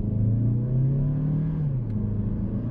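Mazda CX-30 e-Skyactiv G front-wheel-drive car on winter tyres accelerating, a steady low engine drone rising slightly in pitch heard from inside the cabin, continuous and moderately loud.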